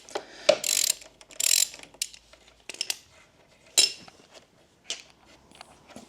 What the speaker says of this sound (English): 12mm ring spanner and a 13mm socket to undo the lower shock